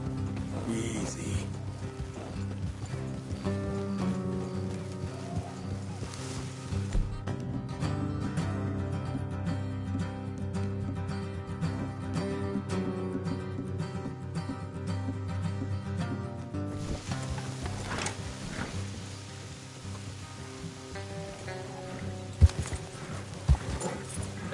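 Horse hooves clop steadily at a walking pace in a video game, with soft ambient music and occasional background sounds around them.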